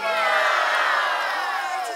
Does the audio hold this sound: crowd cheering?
yes